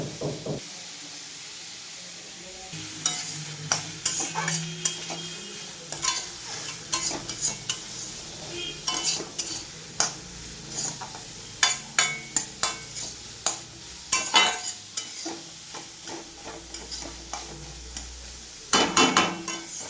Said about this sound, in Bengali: একটু ভালো করে নাড়িয়ে দিয়ে